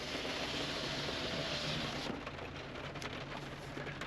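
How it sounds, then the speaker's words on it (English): Heavy rain patters and hisses steadily on a Toyota Land Cruiser 80 Series close by, a dense continuous wash that eases slightly halfway through, with no voices. "And the rain is coming in my windows."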